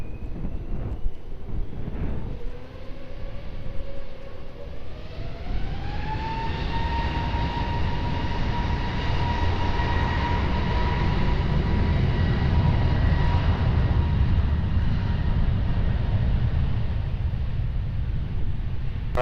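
Airplane taking off from runway 20 at Lisbon Airport, a loud engine roar that spools up into a rising whine with steady harmonic tones, then holds as a sustained, fairly near rumble with no talk.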